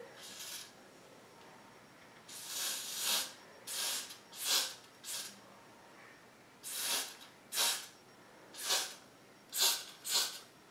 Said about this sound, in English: what I'm gonna do is I am going to spray just a little bit